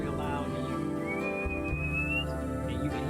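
A street performer's single sustained whistle in a room, rising slowly in pitch for about a second before fading, heard over low background voices and room noise.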